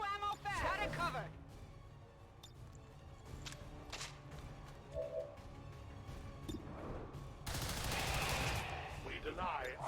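Gunfire in XCOM 2: War of the Chosen, scattered sharp shots and cracks amid game effects and voices, ending in a dense, loud burst of noisy fire near the end.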